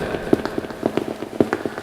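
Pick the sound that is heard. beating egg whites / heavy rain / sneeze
heavy rain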